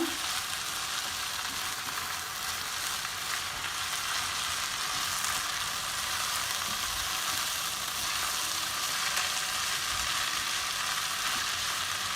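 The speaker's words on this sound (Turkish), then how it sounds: "Bu çok da kırmadan karıştırmamız gerekiyor." Rice pilaf being cooked in a pot with olive oil, giving a steady, dense sizzle with faint stirring scrapes that stays even and close for the whole stretch.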